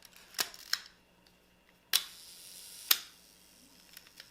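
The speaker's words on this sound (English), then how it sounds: "And you can see the shutter open and close." A Leica M camera shutter fires close up and quiet. Several crisp mechanical clicks come at uneven intervals, some paired as the shutter opens and closes at slow speeds.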